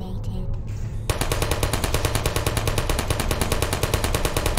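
An automated turret in the video game Portal opens fire after a moment of quieter game sound, unleashing a loud, rapid, evenly spaced stream of machine-gun shots that continues to the end without pause.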